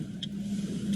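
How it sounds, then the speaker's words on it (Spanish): Steady traffic noise from cars on a city street, a continuous low rumble of engines and tires close by with a faint higher whoosh near the start and end, no talking. "Aquí viene mucho auto."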